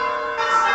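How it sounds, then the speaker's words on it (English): Church bells ringing for evening practice, heard while driving past: a steady, loud metallic ringing with sustained overlapping tones. "they're practicing the bell ringing for Sunday"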